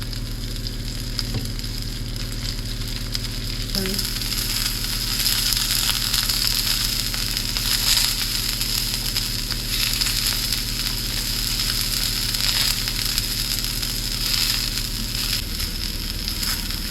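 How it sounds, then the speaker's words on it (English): Oil-coated asparagus sizzling steadily in a hot pan, a continuous loud frying hiss with occasional soft crackles and a brief knock of the pan, no voices. "I'm going to get the asparagus on now into a hot pan"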